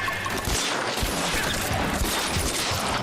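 Rifle gunfire in the video game L.A. Noire, a dense burst of overlapping shots and impacts that stays loud and continuous across the whole moment, with no voices.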